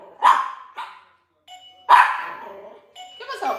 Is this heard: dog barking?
yes